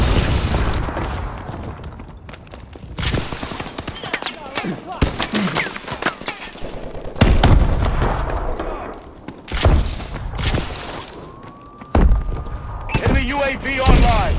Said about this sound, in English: Friendly missile strike incoming